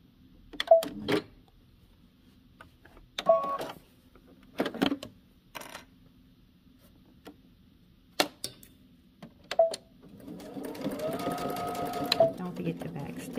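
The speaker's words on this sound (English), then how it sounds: "So now we're going to take this to the machine and stitch from the large dot to the top edge." A sewing machine stitches fabric in several short bursts of rapid mechanical clatter separated by pauses, ending in a longer continuous run, heard close alongside someone speaking.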